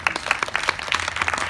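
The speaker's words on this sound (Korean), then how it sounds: "박수 칠 만한 일인 것 같아요." Brief, close rhythmic clapping from a small group of audience members at a film talk event, with steady hand claps and no speech.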